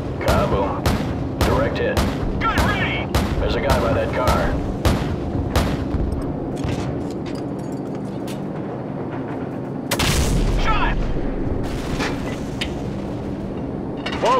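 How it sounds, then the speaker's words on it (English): Rapid gunfire and heavy explosions crackle around a landing zone in Call of Duty 4: Modern Warfare, with dense bursts early on and a big blast near the end, mixed under radio chatter. "we've reached the LZ, but we're taking fire from all sides"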